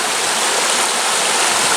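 Running water of the River Adur at Coombes rushes loud and close in a steady, unbroken wash with no voices.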